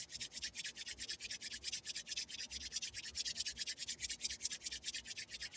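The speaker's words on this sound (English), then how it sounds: "Now, increase the speed of rubbing of your hands a little bit more." Palms rubbing together briskly and steadily during a compassion meditation practice, a continuous dry swishing friction with quick regular strokes, close and fairly soft, with no talking.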